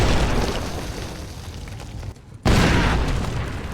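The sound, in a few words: landmine explosion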